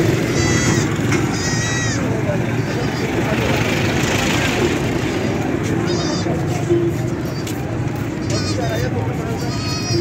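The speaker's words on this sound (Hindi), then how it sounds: "राजनपुरी देसी बकरी, दो वाली हैं बकरी" Rajanpuri desi goats at a Faisalabad livestock sale bleat in several short bursts, rising over someone talking steadily close by, with background noise throughout.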